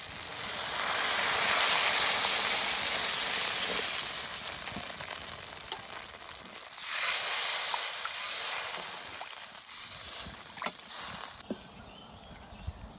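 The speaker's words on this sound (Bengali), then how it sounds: "কত সুন্দর তেল ছেড়েছে মশলার থেকে এবার জল দিয়ে দেবেন" Water poured into a curry pan of hot spiced oil for a village-style vegetable curry, bursting into a loud hissing sizzle that eases and swells again, with a few clinks near the end.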